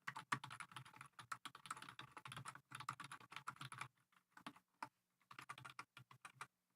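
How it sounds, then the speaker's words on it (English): Close, rapid keyboard typing in bursts of clicking keystrokes, with a short pause partway through before sparser taps resume. "You can hear me typing."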